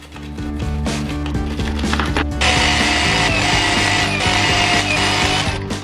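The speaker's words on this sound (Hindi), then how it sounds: "यहाँ पे लेते हैं ब्रश और इससे ऐसे ऐसे रगड़ना चालू करते हैं" Brisk brushing against a metal watch during cleaning, a continuous scraping and rubbing texture with a mechanical ratchet-like edge, loud and close, with no talk over it.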